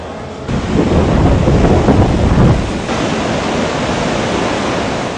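Strong roaring wind of Typhoon Yolanda (Haiyan) sweeping a Philippine town at daybreak, a loud, broad rushing noise that surges for a few seconds then settles to a steady heavy roar.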